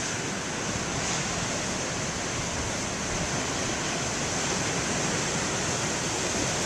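Big ocean waves pounding the shore under a stormy sky, giving a continuous loud roaring wash of surf that stays dense and unbroken throughout.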